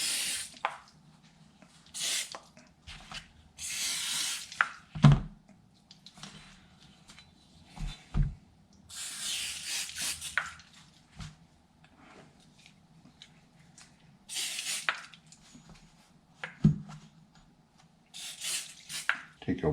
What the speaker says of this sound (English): I'm just gonna spray down.